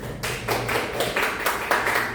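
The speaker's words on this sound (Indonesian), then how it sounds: "kita tepuk tangan dulu untuk Tina" A small classroom group claps for a student during a biology microteaching lesson, several distinct bursts of hand claps in loose rhythm, fairly close and moderate in volume.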